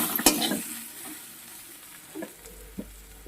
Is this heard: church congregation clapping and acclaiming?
no